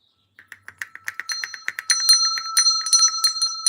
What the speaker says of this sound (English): Remember when you are in school, you could hear the bell.